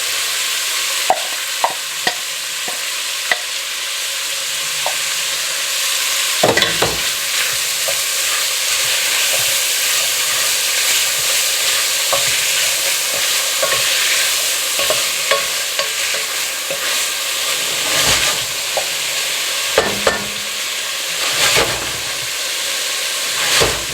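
Vegetables sizzling in a Cajun jambalaya pot, stirred and shaken: a loud steady hiss of frying with occasional sharp clicks and scrapes of a utensil, close and continuous without speech.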